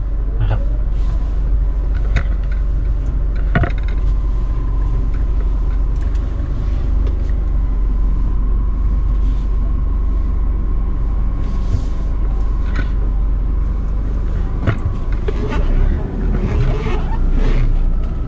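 A 2014 Isuzu D-Max 2.5 pickup drives on a test run, with a loud steady low engine and road rumble inside the cab, occasional clicks and knocks, and a faint tone running through the middle.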